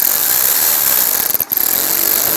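Power tool driving a screw while fitting a fog light kit on a 2005-15 Nissan Xterra, a loud continuous whirring buzz with one brief pause before running on.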